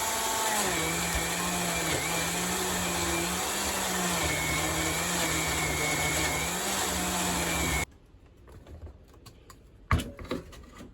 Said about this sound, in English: I want to blend this up with some oil